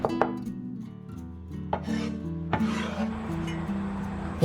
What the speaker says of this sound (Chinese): 再准备一把干豆豉，我们同样给它剁碎